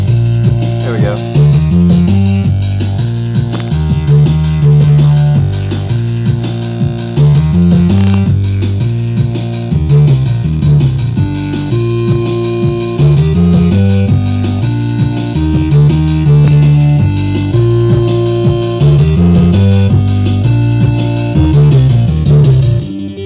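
Electronic music sequenced and generated entirely on a Yamaha RM1X groove box, with a steady looping beat, bass and synth lines playing continuously at a loud, even level with no voices.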